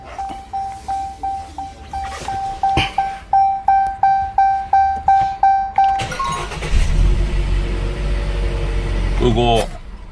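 A Jeep with a freshly cleaned throttle body gives a run of evenly spaced warning chimes, then the engine cranks and catches, settling into a deep, steady idle close by.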